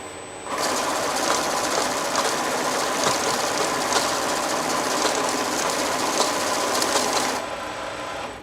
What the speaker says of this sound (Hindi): मशीन ने कैश में सबसे पहले नंबर पे एंटर होने वाले डिनोमिनेशन को सेट करके दूसरे सब डिनोमिनेशन को रिजेक्ट पॉकेट में अलग कर दिया।